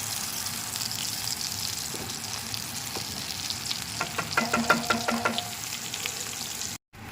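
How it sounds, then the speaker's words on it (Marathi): Masala frying in oil for mutton sukka sizzles continuously and close, with a quick run of rhythmic spoon taps on the pan partway through before a sudden brief cutoff. "मसाला छानपैकी फ्राय करायचा, अगदी तेल सुटेपर्यंत त्याला फ्राय करायचं"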